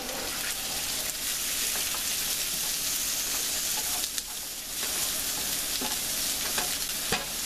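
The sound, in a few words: carrots and ginger frying on high heat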